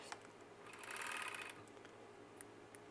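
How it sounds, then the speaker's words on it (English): A sewing machine stitches and trims sublimated polyester shirt fabric, a quiet close whirring run that swells in the middle, with a few faint clicks afterward. "whenever we're sewing, we're having the machine cut a little bit"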